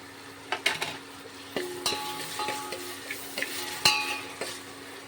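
Vegetables with tomato, salt and turmeric frying in a pan in a home kitchen, heard as a soft sizzle broken by scattered clinks and scrapes of a spoon stirring against the pan, close and fairly quiet with no voices.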